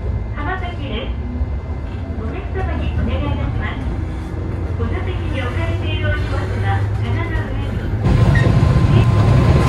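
A JNR 103 series rapid train runs along the Chikuhi Line, its steady rumble of wheels and motors heard from onboard, with a louder, rougher roar in the final seconds. A voice talks over it throughout.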